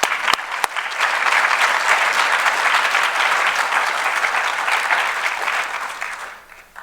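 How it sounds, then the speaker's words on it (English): Law conference audience applauding the Dean, a full, sustained wave of clapping from a large crowd that stays loud for several seconds and then fades out near the end. "Applause for the Dean."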